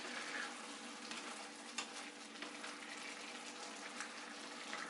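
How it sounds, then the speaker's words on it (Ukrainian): Liver and vegetables simmer in a pan, for a liver pâté made with soy sauce and cognac, giving a steady close bubbling sizzle with soft stirring clicks throughout, no talk. "Гарно перемішаємо і даємо суміші потушкуватися ще хвилин 5."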